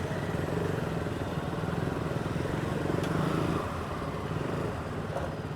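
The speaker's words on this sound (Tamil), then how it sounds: "full traffic" Dense road traffic in Kattankudy, with motorcycles and cars running and idling close by in a steady continuous rumble, no talk.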